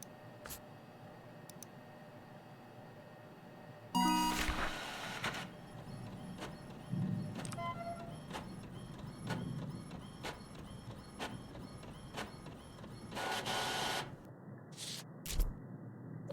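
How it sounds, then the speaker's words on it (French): A wireless printer in The Mortuary Assistant video game runs through a print job, a steady mechanical whir and rattle with bursts of feed noise, moderately loud and alone. "cette imprimante sans fil fonctionne mieux que la mienne"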